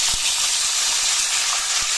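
Potatoes hit hot oil with a cumin tempering for methi aloo bhujiya, giving a steady, loud, close sizzling hiss that runs unbroken throughout.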